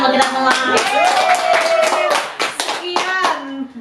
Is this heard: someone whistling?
no